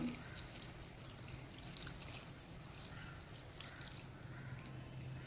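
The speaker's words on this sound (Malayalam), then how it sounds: "ഇനി ഇതിലേക്ക് നമുക്ക് ആവശ്യത്തിന് വെള്ളം ഒഴിച്ചു കൊടുക്കാം." Water is poured into a ground powder mixture for a homemade hair remedy, giving a quiet, steady trickle and splash close by that runs without a break, with no talk.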